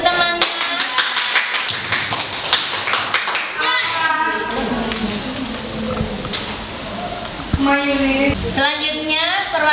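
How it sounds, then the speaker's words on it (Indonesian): A class applauding a classmate, a burst of fast close clapping at the start and again near the end, with children's voices and talk in between. "Aplaus untuk temannya."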